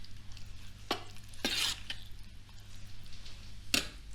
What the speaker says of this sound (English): I'm going to do the seasoning or the spice tempering a little bit different